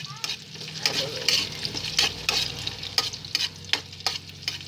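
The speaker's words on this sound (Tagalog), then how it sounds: "Yung malaking hiwa lang yung sibuyas. Saka haluin." Large-cut sliced onions fry in a pan with a constant sizzle, while a utensil stirs them in repeated sharp scraping strokes, close and clear with no talk.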